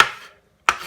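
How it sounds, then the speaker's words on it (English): A knife chops a jalapeño on a cutting board, making two short, sharp knocks separated by a brief pause, close and clear, with no talking. "estoy cortando la jalapeno"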